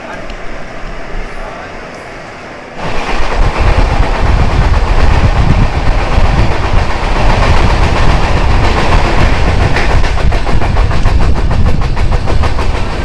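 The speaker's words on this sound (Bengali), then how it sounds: "আমাদের কাঞ্চনকন্যা এক্সপ্রেস ডুয়ার্সের উদ্দেশ্যে শিয়ালদা থেকে যাত্রা শুরু করলো" Kanchankanya Express pulling out of Sealdah station, a loud, steady rumble of rolling wagons and engine noise that swells after a quieter opening and continues without break.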